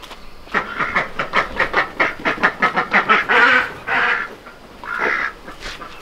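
A duck quacks in a fast run of about a dozen sharp, evenly spaced calls, then gives a few longer, drawn-out quacks close by on a farm where pigs are kept.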